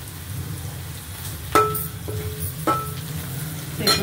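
Onions and tomato pieces frying for an Andhra-style egg curry, a soft steady sizzle in the pan with a few sharp clinks of a utensil against the pan.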